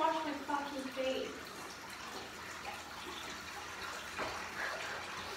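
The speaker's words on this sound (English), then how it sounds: "I'm just trying to wash my fucking face" Water runs from a bathroom tap while someone washes their face, a soft, steady splashing stream at close range with brief fluctuations.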